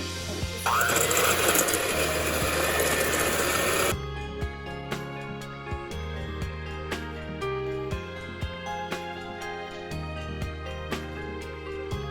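Muffin batter for chocolate coffee muffins being beaten until frothy, heard as a loud, dense mechanical whirring buzz for about three seconds. It then cuts off abruptly, leaving quieter background sounds.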